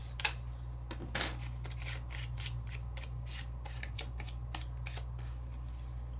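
Small die-cut paper pieces being popped out of a cutting die, faint close crinkling and soft ticks over a constant low hum, no talking.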